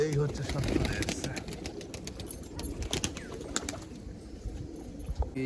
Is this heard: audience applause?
no